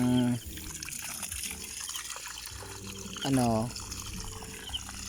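Water from a solar-powered pump pours and trickles steadily nearby while a person talks over it at times.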